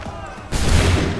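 A musket volley bursts out in the Assassin's Creed 3 game, a loud sudden blast of massed gunfire cutting in after a moment of quieter background, with a rumbling noisy tail.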